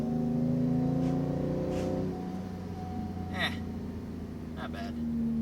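A Ford F-150 in sport mode revs up, and the engine note hangs high before slowly falling, heard from inside the cab with a voice speaking over it.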